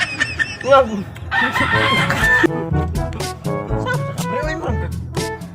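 A rooster crows loudly and close by, the call running with stacked harmonics for a couple of seconds, with other clucking fowl and people talking around it.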